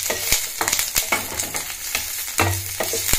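Curry leaves and garlic frying in a pan with oil, crackling sizzle broken by repeated stirring scrapes and clinks at an uneven rhythm.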